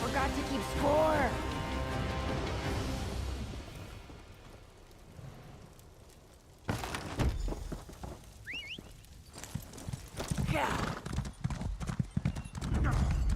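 Horse hooves clip-clopping as a rider travels in The Elder Scrolls Online, a rhythmic trot under game music and talk, fading in the middle then resuming louder.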